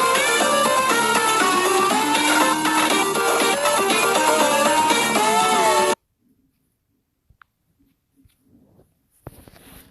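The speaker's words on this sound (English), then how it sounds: "when Leah goes insane and gets really angry, her sound font is going to sound like this" A loud, dense burst of distorted, chaotic music-like sound serves as the angry, insane soundfont for a character in a Sunday Night Suicide game mod, blaring for about six seconds before cutting to near silence with a few faint clicks.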